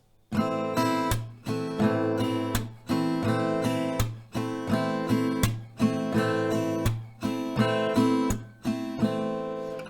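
Acoustic guitar strummed in a steady repeating down-up pattern with a percussive muted hit in each round, several rounds in a row, close and clear with no talking.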